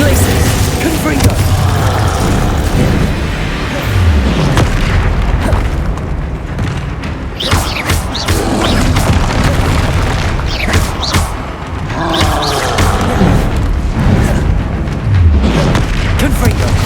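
Spell explosions from Confringo in Hogwarts Legacy burst repeatedly as deep, loud booms amid swooshing combat effects and game noise, with no talking.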